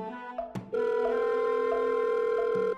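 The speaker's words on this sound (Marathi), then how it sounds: "समर सर फोन नाही उचलत आहे." A telephone call rings out unanswered: a short burst of tones, then a steady, loud electronic ringback tone held for about two seconds, close and clear with no talk.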